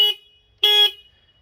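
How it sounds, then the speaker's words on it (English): The stock horn on a Triumph Street Triple motorcycle gives two short, thin beeps, one brief and one longer, loud and close with silence between them. "motorcycle horns generally sound pathetic, and I think the Triumph Street Triple sounds the most pathetic"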